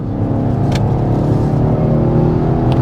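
BMW XM Label, 748 horsepower, accelerating hard onto the Autobahn: a loud, steady engine roar with dense low harmonics rising smoothly, heard from inside the car with no talk.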